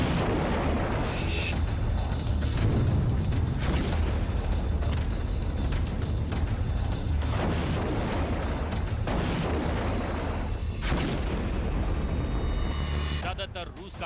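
Heavy booming artillery fire rumbles on continuously, with sharper blasts breaking through a dense, loud roar while a voice talks underneath.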